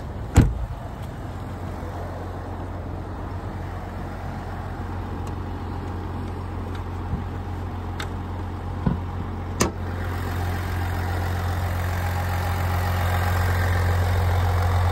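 A 2021 GMC Yukon SLT with the Duramax 3.0 diesel idles with the hood open, a steady low rumbling hum broken by a few sharp clicks and a door-like thud.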